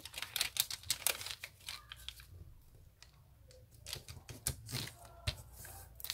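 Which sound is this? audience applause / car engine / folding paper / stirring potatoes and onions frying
folding paper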